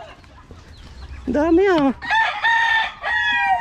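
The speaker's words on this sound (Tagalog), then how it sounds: "ang dami rin pala manok dito." Chickens on a Philippine property with fighting cocks, a rooster crowing loudly and close in repeated calls while hens cluck around it, with a brief spoken remark near the start.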